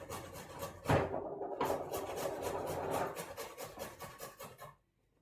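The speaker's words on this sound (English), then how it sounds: "I grate a piece of root ginger" A piece of root ginger rubbed against a grater in close, rhythmic rasping strokes, a fast run of scratchy passes that ends abruptly in silence.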